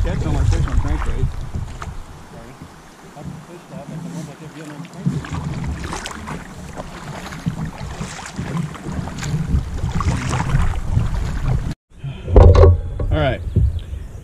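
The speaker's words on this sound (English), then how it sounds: "Paddle back upstream," Kayak paddling upstream on Beaver Creek in Missouri during a bass fishing tournament, with close water splashes and strokes, wind buffeting the microphone, and someone talking over it.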